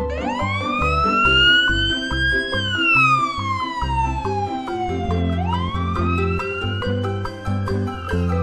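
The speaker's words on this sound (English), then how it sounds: "Ambulance." Ambulance siren in a children's vehicle-learning cartoon, a continuous wailing tone rising and falling in long sweeps over a steady, bouncy background music track, loud and prominent with no talking.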